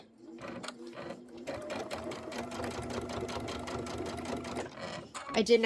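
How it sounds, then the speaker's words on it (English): A sewing machine stitches pieces of an embroidered tiling scene together in a quick, rhythmic run of needle beats lasting a few seconds, with soft handling noises before and after. "I'm just sewing just to the left"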